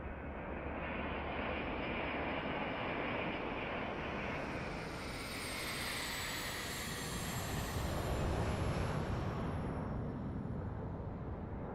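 A Contrail Falcon 50 business jet landing in Microsoft Flight Simulator 2024 roars steadily with engine whine and a broadband rush, swelling slightly near the end as it rolls out, with no talking.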